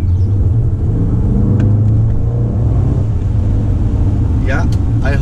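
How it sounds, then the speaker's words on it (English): A Range Rover Sport SVR's 5-liter supercharged V8 rumbles deeply and steadily throughout at close range, with faint higher whines and chirps near the end. "This 5-liter V8 supercharged"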